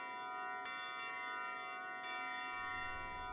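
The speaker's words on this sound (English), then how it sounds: "We rang another bell!" A bell in the video game Klonoa 2: Lunatea's Veil rings with a sustained, shimmering metallic tone that is struck again partway through and keeps ringing loudly on its own.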